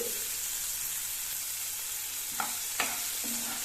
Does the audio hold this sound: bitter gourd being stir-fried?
yes